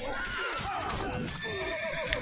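A horse neighs and whinnies close by in The Witcher 3: Wild Hunt, Blood and Wine, with hoof clops and soft game ambience underneath.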